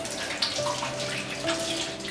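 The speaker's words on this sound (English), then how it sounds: "Just wash some of that butter off my hands." Tap water runs steadily into a sink while butter is washed off hands, a continuous close splashing stream with slight shifts as the hands move under it.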